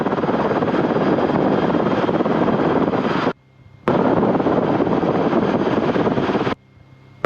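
Rotorway helicopter in flight, a loud, steady broadband rotor and engine roar close to the microphone with wind buffeting, cutting out briefly twice.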